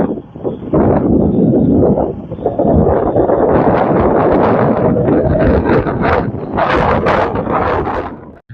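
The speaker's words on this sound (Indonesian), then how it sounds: "Anginnya kuat guys." Strong wind batters the microphone in loud, sustained rumbling gusts that last nearly the whole stretch, outdoors among shallot crops, with no speech over it.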